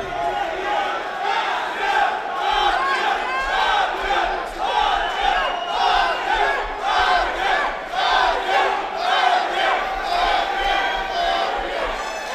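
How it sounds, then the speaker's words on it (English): Crowd at an amateur MMA fight event chants loudly and rhythmically throughout, a dense roar of many voices pulsing in steady waves from the arena audience. "And now the crowd is going crazy chanting."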